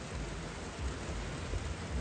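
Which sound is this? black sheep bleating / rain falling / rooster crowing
rain falling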